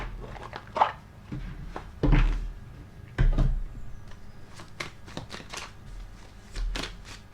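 Oracle cards are handled and shuffled close up in quiet surroundings, giving irregular crisp flicks and a few louder thumps and slaps spread across the moment.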